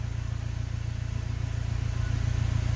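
A Mercedes W204 C250 fitted with an Armytrix downpipe idles steadily close by, a deep, even engine drone with a slight rise in level toward the end and no voices.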